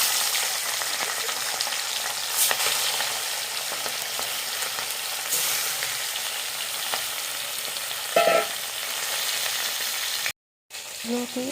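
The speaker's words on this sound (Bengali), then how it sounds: "এবার আমি বাকি যেই মাছগুলো আছে সেগুলো এইভাবে ভেজে নেব" Four pieces of khoira fish frying together in a kadai of oil, a dense, even sizzle that runs close and steady throughout with a few faint clinks, then a brief cut near the end.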